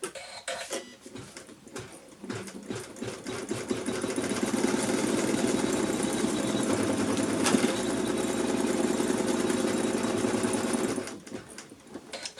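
An embroidery-style sewing machine stitches lining onto a panel, its steady mechanical whirr and rapid needle chatter running continuously for several seconds, starting and stopping with quieter handling noises around it.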